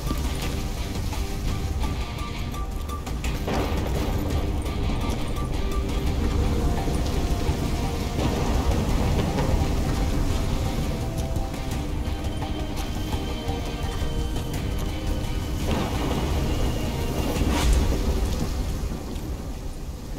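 A thunderstorm in the game Call of Duty Black Ops 3 keeps heavy rain hissing steadily throughout, with deep thunder rumbles rolling in several times over the downpour and no one speaking.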